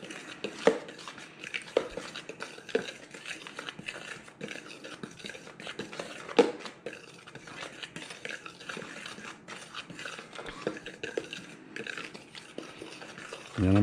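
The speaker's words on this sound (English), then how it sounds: "just give this a quick stir just to kind of get all the different flours all mixed together" A utensil stirs different flours together in a bowl for sourdough bread, making light, irregular scraping and clinking taps against the bowl, fairly close and soft, with a few sharper knocks scattered throughout.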